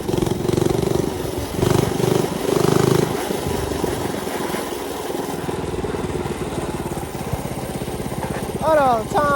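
Small mini bike engine running steadily while riding through a neighborhood, a continuous buzzing drone that stays close and fairly loud, with voices heard over it.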